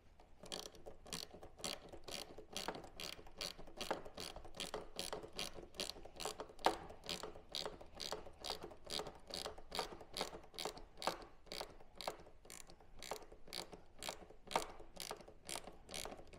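A ratchet wrench tightening a bolt on a motorcycle fairing, clicking in a fast, even series of pawl ticks that runs without pause for about sixteen seconds, faint and close.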